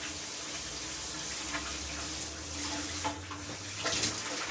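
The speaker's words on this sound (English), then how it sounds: "We're taking a shower." Shower water runs steadily with a continuous hiss and splash, holding at an even level throughout with a few slightly louder surges near the end.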